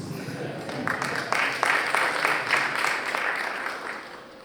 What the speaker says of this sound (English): I think you can increase your applause